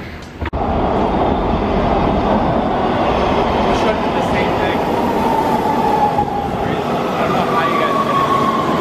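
Loud, steady rumble of an LA Metro subway train in motion, with rail clatter and a rising wheel squeal partway through, after a brief sharp knock at the start.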